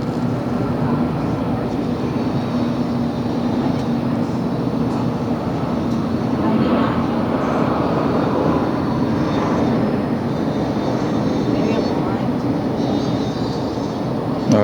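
A Hawaiian Airlines Boeing 787 passes at LAX with a broad, continuous jet roar that stays loud and steady throughout, swelling slightly in the middle.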